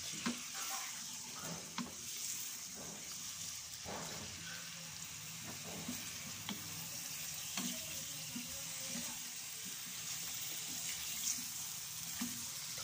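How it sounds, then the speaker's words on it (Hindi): Chicken for a Karachi-style karahi fries in hot oil, giving a steady crackling sizzle broken by regular scrapes and clatters of stirring, all at close range. "थोड़े से हल्की सी तेज आंच पे हम इसकी भुनाई करेंगे"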